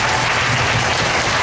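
A church congregation bursts into loud, dense applause during a sermon, a brief, full wall of many hands clapping close by.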